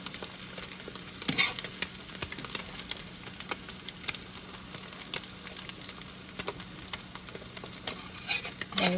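Egg frying in a cast iron pan, a soft steady sizzle with scattered crackles and light pops throughout, close and alone with no talking.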